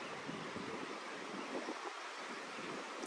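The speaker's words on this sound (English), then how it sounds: "Let y'all see how fast this water's flowing." Fast-flowing river water at Robber's Cave Park rushes in a steady, broadband wash that stays constant throughout, mixed with wind buffeting the microphone, with no voices.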